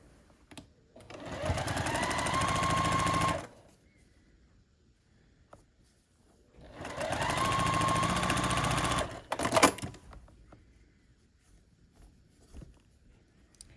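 A sewing machine stitches a seam on a scrappy sampler quilt block, running in two steady whirring bursts of about two seconds each separated by quiet handling noises, close by with no talking.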